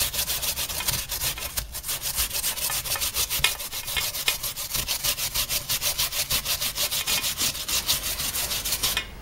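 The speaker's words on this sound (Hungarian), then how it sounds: "Meghámozzuk a burgonyákat. És a közepes méretű reszelőn lereszeljük." Peeled potatoes rubbed on a medium-sized hand grater for Hungarian potato prósza, a steady rapid rasping rhythm of back-and-forth strokes, close and continuous without talk.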